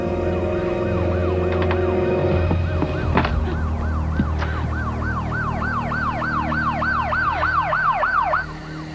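A police siren wails, rising and falling in fast repeating sweeps, loud and close, over a low engine rumble, then cuts off near the end.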